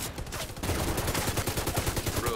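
Rapid automatic gunfire in The Division 2: Warlords of New York, a dense, fast, even stream of shots that runs almost continuously through a short burst, loud and close.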